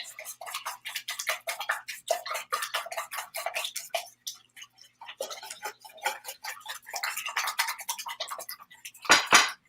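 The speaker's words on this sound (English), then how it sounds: "I'm going to whisk up the eggs." Eggs whisked in a bowl for a kids' cooking dish with Parmesan, a rapid run of close, bright metallic clicks and taps. The rhythm stays steady throughout, with a brief pause midway and a louder clatter at the end.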